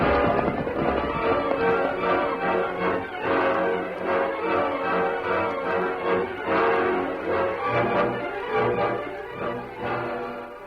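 Horse galloping, a sound effect in an old-time Western radio drama: steady, rapid clip-clop hoofbeats, loud and close, running the whole time with no voices over them.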